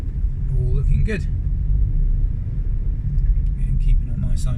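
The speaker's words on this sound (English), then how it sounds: "waiting for the red car to go through, waiting for the blue car to follow through" Car traffic rumbles steadily along a residential road in Rusthall, Tunbridge Wells, with a vehicle passing close by about a second in and more engine noise continuing throughout, loud and low.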